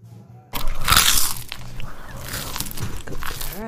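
A Yorkie dog crunching on a cucumber, a few close, wet crisp bites and chews after a quiet start, with no talk.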